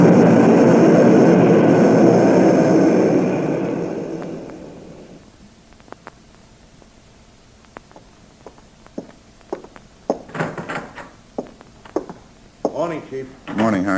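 A radio-drama effect of a propeller airplane droning loudly overhead for several seconds, then fading away. Sharp clicks, footsteps and voices follow as the scene goes on.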